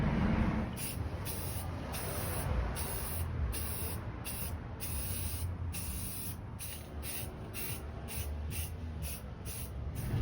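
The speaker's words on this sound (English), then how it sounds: "the first thing is going to be a coat of good old red oxide primer." Red oxide primer sprayed onto a metal industrial end table, with steady close hissing bursts that pulse on and off for the whole stretch.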